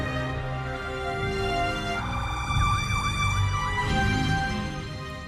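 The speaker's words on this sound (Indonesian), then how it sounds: "Tidak lama kemudian suara sirine yang sangat merdu terdengar." An emergency vehicle siren wails through a film scene, its pitch sweeping up and down in a rapid yelp over a dense, loud background of traffic and ambient noise, with no talking.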